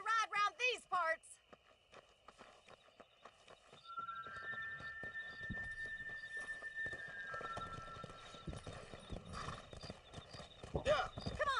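Horse hooves clip-clopping at a steady walking rhythm in Red Dead Redemption, close and moderately loud, with a whinny early on and a sustained musical tone layered over the hoofbeats.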